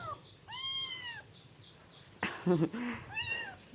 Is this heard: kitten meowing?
yes